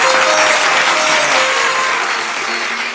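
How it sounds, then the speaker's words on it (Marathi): Loud, dense audience applause fills a stage comedy show as a guest singer is welcomed, a steady wash of clapping that fades slightly toward the end. "एकदा टाळ्या होऊन जाऊ देत त्यांच्यासाठी."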